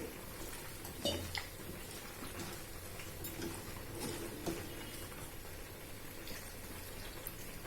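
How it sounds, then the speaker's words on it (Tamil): A little water poured into anchovy aviyal in a home kitchen, a quiet close trickle with a few faint clinks of the pan, no talking. "கொஞ்சமாக தண்ணி விட்டு"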